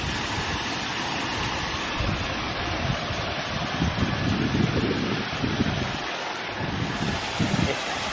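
Cool wind at the seaside rushes and buffets steadily against the microphone, mixed with a soft wash of surf, loud and continuous throughout without talk.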